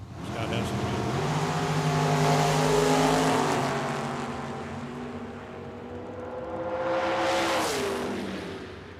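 Drag racing cars in a match race at Tucson Dragway roar loudly as they accelerate down the strip, with engine pitch climbing in a long surge, then a second pass swelling later, as an announcer talks over the track noise.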